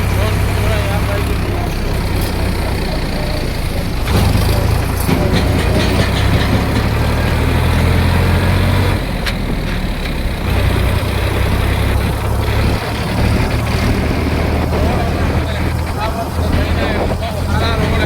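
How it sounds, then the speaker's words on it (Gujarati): A tractor engine chugs steadily while driving up onto a service road, a loud, close low rumble with shifting mechanical rattle, and a voice talks over it at times. "ટ્રેક્ટર ચડાવી લીધું સર્વિસ રોડ ઉપર"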